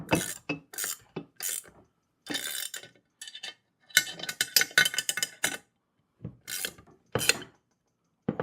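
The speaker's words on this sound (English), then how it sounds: "let me get another wrench so we can tighten it down a little bit better" Wrench tightening a bolt on a garden dump cart, close bursts of metallic ratcheting and scraping in short irregular strokes separated by pauses.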